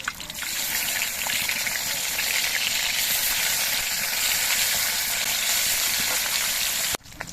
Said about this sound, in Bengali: বাকি পুঁটি মাছগুলো ঠিক একইভাবে ভেজে নিচ্ছি